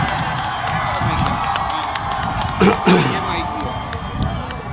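A large crowd at a university speech event at Sargodha University cheers and applauds. It is a dense, continuous roar of clapping and shouting, loud and close, with a brief swell of whoops midway.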